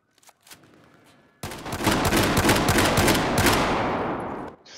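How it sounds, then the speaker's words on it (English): Rapid, sustained firing in Battlefield 4, a dense string of close shots lasting about three seconds after a brief quiet lead-in, then cutting off. "So many shotgun shells going out."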